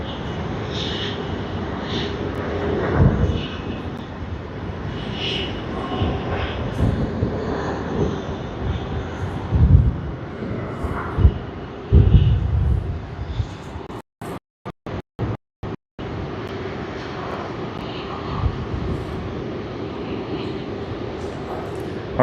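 A jet airliner taking off from Sydney Airport on Australia Day, likely Delta flight DL40 to Los Angeles: a loud, rising engine roar with rumbling swells, broken by brief dropouts, then settling into a steadier distant drone.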